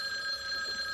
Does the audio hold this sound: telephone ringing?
yes